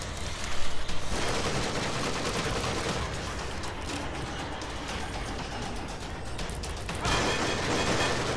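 Uzi submachine gun fire in The Evil Within, a dense, continuous rattle of automatic shots filling the whole stretch, loud and close, with a brief surge at the start and another near the end.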